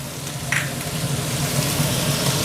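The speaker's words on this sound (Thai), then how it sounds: "จากนั้นเราก็จะใส่กระเทียม" Chopped garlic stir-frying in oil in a wok beside cooked minced pork, with a steady loud sizzle and a brief stirring scrape, no talk.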